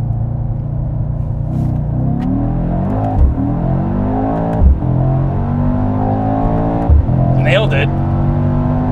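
Mercedes-AMG E63S Wagon (2021) launching hard under launch control, its engine climbing loudly through rising revs with sharp dips at each upshift around three, four and a half and seven seconds; loud, close, cabin perspective, with some voices over it.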